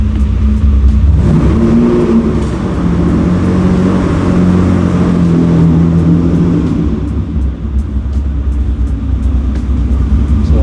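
A 1964 Ferrari 250 Lusso Competizione's engine pulls hard and loud up close, rising in pitch as it accelerates through its four-speed gearbox, with brief dips between shifts.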